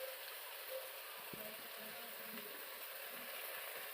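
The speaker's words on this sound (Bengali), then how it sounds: "দেখো আমি মটরশুঁটি আলুটা ভাজা করছি" Peas and potatoes frying in oil in a pan, a steady, quiet sizzling hiss that runs unbroken throughout with faint crackles.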